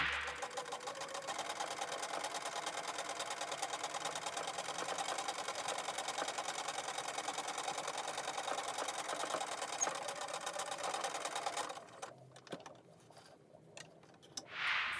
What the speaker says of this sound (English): So what I decided to do is sew a base stitch along the black line.